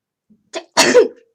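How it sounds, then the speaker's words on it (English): A single sharp sneeze, preceded by a brief in-breath, close and loud against silence. "I've got to sneeze."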